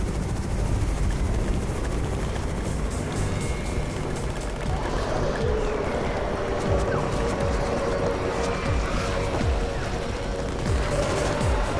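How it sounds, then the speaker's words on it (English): A helicopter's steady rotor drone fills the scene in the zombie survival game Undawn, loud and continuous, with scattered gunfire-like cracks and game ambience layered underneath. "It's the Raven's chopper! We have backup!"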